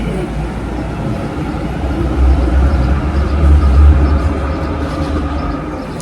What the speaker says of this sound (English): So some of the trams are actually heritage ones like this